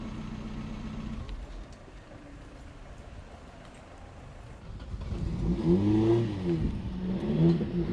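A car engine idles steadily, with its low hum rising and revving slightly toward the end; no one speaks.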